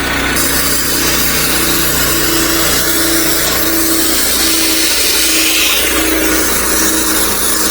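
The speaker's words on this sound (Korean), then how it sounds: "고압 세척기 시동을 걸고 엔진 시동을 걸고" An engine-driven high-pressure washer runs loud and steady, its motor roaring with a constant mid-pitched drone and hiss of spray throughout, no one speaking.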